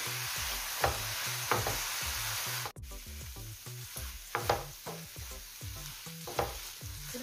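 Food stir-fried in a pan until dry, with rapid, rhythmic spatula strokes scraping the pan over a continuous loud sizzle and one brief dropout partway through.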